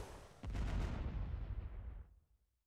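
An ion cannon fires in a video game: a heavy blast erupts and roars with a deep rumbling rush that lasts over a second, then fades quickly into silence.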